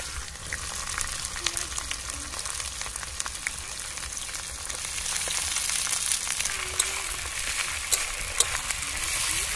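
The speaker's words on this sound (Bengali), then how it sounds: "এবার আমি পেঁয়াজ দিয়ে দেবো," Chopped onions sizzle in hot oil in a pan for a chicken curry cooked at an outdoor picnic, a steady close crackling fry with light stirring scrapes and no talk.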